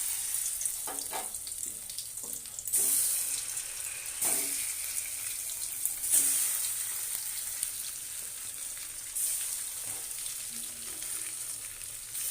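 Fish frying in a pan until crisp, a steady quiet sizzle with brief louder crackling bursts and faint clinks, moderately near, with no talking.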